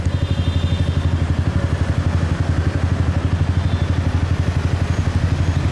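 A motorcycle carries riders through Saigon streets, its engine a loud, steady pulsing drone with rapid throbbing beats and a little clatter, close up and continuous throughout.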